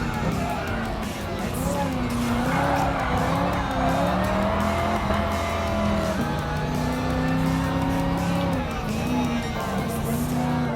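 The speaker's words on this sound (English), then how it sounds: "Alright, time to do some power slides." A Dodge Challenger in Gran Turismo Sport power-slides with a loud engine drone rising and falling alongside sustained tire squeal, close and continuous across several slides.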